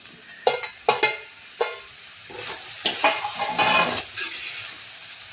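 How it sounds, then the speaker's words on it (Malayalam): Curry leaves and tomatoes drop into a hot pan of frying chicken-curry base, giving several sharp crackling spits before a steady sizzle and scraping stir take over. "കറിവേപ്പിലയും തക്കാളിയും കൂടി ഇട്ട് കൊടുക്കാം."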